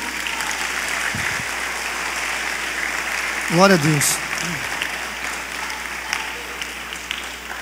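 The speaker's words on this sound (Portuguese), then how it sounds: "Você pode aplaudir o Senhor por isso?" A church seminar audience breaks into a short burst of applause, fairly even and moderate in volume, while a voice speaks over it and calls out briefly.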